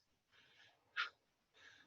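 Heavy, labored breathing after karate drills in a dojo, with a few drawn-out breaths and one sharper, louder exhale in the middle, all close and quiet with no talk.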